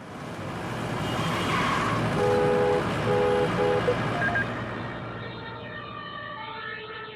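An emergency vehicle siren wailing over road traffic, its rising and falling tone growing louder as it nears, then fading away over a car's steady rumble.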